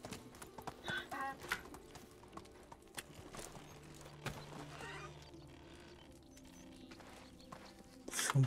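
Donkey hooves walking in the game Medieval Dynasty, an irregular clip-clop of steps at moderate distance, fairly quiet, with scattered game sounds around it.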